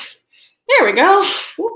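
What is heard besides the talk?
sneeze in the background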